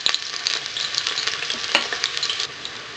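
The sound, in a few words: onions sautéing in hot olive oil in cooking pot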